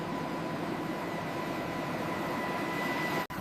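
Twin turboshaft engines of an AH-64 Apache helicopter whine and roar steadily while it taxis, a constant broadband drone with a faint high tone and no voices.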